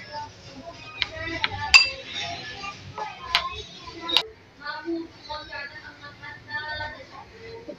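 Chicken wings are being mixed in a bowl with chili flakes and garlic powder, giving a scattering of sharp metallic clinks and scrapes of a utensil against the bowl beneath ongoing talk.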